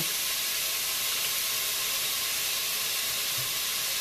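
Bacon lardons brown in a Cookeo cooker with a constant, close, dense sizzle and hiss that holds steady throughout, with no voices over it.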